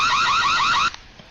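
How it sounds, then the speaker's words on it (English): An electronic alarm goes off with a loud, rapidly warbling tone that sweeps up and down in a fast repeating cycle, then cuts off abruptly, leaving quiet background. "So the alarm starts going off"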